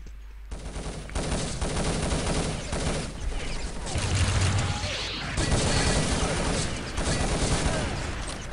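Rapid gunfire from the multiplayer shooter Urban Terror crackles continuously in dense, overlapping bursts, loud and sustained across the whole stretch with booms mixed in.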